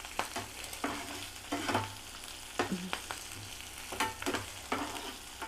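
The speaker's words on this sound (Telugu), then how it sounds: "1/2 స్పూన్ జీలకర్ర వేసుకోవాలి. ఇవి కొంచెం బాగా వేగాలి అండి." Half a spoon of cumin seeds frying in hot oil for a Telugu tomato sesame chutney, a steady close sizzle broken by repeated stirring scrapes and clinks, with no talk.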